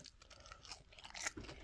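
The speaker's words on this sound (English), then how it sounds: "And them chips are very crisp." Close crunching and chewing of crisp fried chips cooked in sunflower oil, eaten with battered fish at a fish and chip shop in Pagham, Sussex, with a run of brittle bites and softer munching and no talk.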